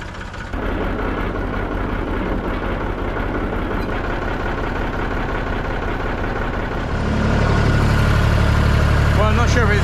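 A farm tractor with its tyres let down drives out across the fields, its engine a steady loud drone that grows heavier and louder near the end, with a voice speaking over it.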